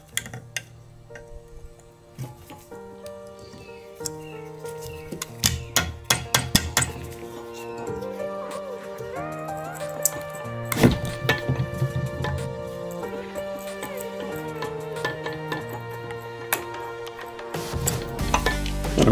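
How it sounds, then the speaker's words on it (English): Metal hammer blows knock a 2nd-gen Toyota Tacoma steering knuckle off the lower control arm ball joint. The ringing strikes come in irregular bursts, some quick runs and some single heavy hits, close and loud in a quiet garage. "separate the knuckle from the lower control arm here off the ball joint"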